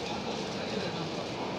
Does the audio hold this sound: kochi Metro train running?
yes